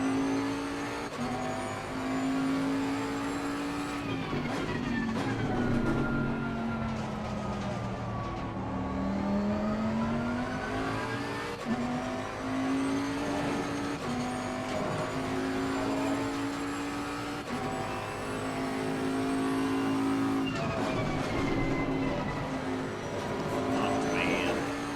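A Bentley GT3 race car lapping Hungaroring in Assetto Corsa Competizione, its engine droning steadily and rising and falling in pitch through gear changes and corners, close and continuous, with someone talking over it.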